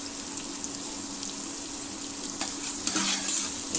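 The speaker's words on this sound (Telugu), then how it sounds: "ఇవన్నీ వేగాలి." Grated ginger sizzles steadily in a hot pan while cooking home-style katte pongali, a continuous close frying hiss with small crackles and a few stirring clinks toward the end.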